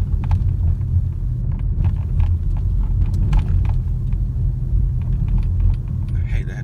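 A car engine rumbles low and steady from inside the moving vehicle, with a constant road roar and occasional small rattles throughout.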